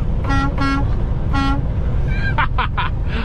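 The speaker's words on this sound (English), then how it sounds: "Honk the horn a little bit." Over-the-road semi truck horn honked in short repeated toots, loud and close over engine drone, a few blasts in quick succession.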